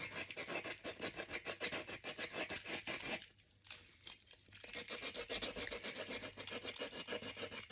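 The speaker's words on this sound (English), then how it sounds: "I just feel the edges, and with some rough sandpaper, I literally just" Rough sandpaper scrubs along the edges of a cured resin art piece in quick, rhythmic back-and-forth strokes, close and fairly quiet, pausing briefly midway before resuming without any talking.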